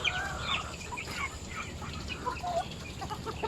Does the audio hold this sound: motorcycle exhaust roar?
no